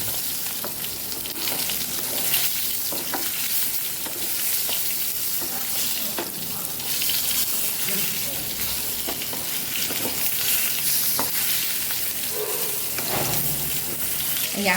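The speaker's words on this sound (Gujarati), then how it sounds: "અહીંયા આપણે ટમેટાને મસ્ત એવા સાતળી લેવાના છે." Stuffed tomatoes sauté in hot oil for a Kathiyawadi tomato curry, giving a steady bright sizzle with occasional stirring scrapes and clicks, close and continuous.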